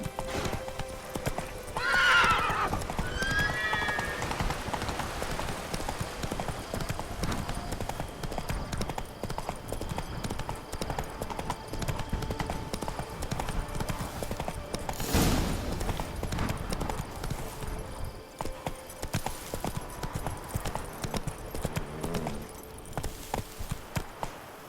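Roach, Geralt's horse in The Witcher 3, gallops with continuous rhythmic hoofbeats close by, and a whinny comes early on. Faint ambient game sounds fill the background.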